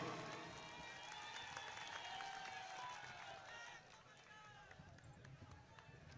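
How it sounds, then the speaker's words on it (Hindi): A large rally crowd applauds to welcome Kamal Nath at a Rahul Gandhi gathering among Adivasi people in Madhya Pradesh, dense sustained clapping that swells, then thins and settles into scattered claps, with voices mixed in. "जोरदार तालियों से कमलनाथ जी का आप स्वागत कीजिए"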